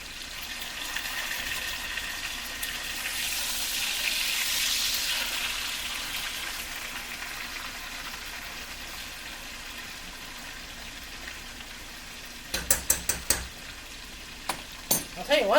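Thick pork steaks fry in a pan with a steady, moderate sizzle, and a few sharp clinks of utensils near the end.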